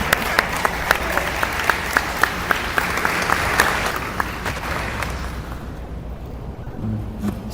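Audience applause at a county NAACP banquet, a loud, dense round of clapping from a standing crowd that holds steady and then gradually fades toward the end.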